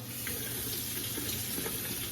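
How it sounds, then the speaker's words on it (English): Running tap water rinsing fresh mushrooms under a kitchen faucet, a steady close hiss and splash continuing without pause at a moderate level. "I'm gonna rinse them off"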